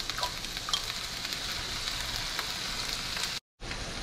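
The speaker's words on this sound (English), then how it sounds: "Add 1/2 of a chopped purple onion and stir until it's translucent." Chopped purple onion and garlic sizzle steadily in olive oil while being stirred, a dense close crackle that carries on without a break apart from one brief dropout near the end.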